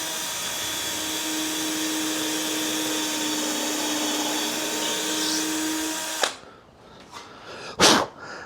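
A steady, loud whir of a drill driver boring pilot holes in a wooden 2x2, running continuously for several seconds, then stopping, followed by a couple of brief knocks.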